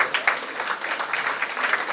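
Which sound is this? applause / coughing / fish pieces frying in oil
applause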